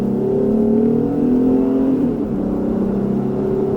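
A 2018 Jeep Wrangler JL accelerates steadily from the cabin, its engine note climbing in a smooth rising drone, dipping briefly at a gear change, then pulling on again at a loud, even level.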